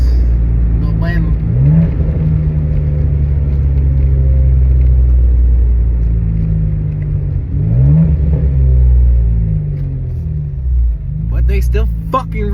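A BMW N54 twin-turbo engine with a VRSF muffler delete and worn, smoking turbo seals, running at 18 psi, rumbles loudly and steadily with a couple of rising rev swells, while someone talks over it.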